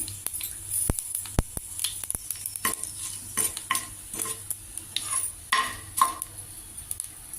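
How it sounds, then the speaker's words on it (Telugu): Cumin, mustard seeds and a red chilli sizzle and crackle in hot oil with sharp pops and a few clinks of a spoon stirring in a pan, no talking. "పోపు వేగింది"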